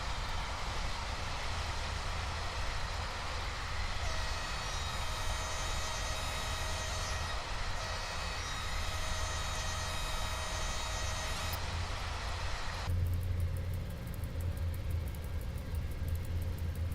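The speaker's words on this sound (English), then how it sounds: "As the Pendolino goes first." A Pendolino train in the SimRail game rolls past with a steady low rumble and whine, high tonal hum rising partway, then a sudden shift in texture near the end; no talking.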